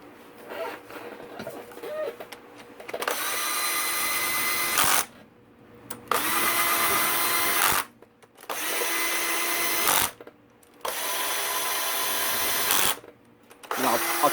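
Power tool driving clutch cover bolts on a Kawasaki KX85 dirt bike, running in four bursts of steady whirring of about two seconds each, separated by short silent pauses, close and loud with no talk.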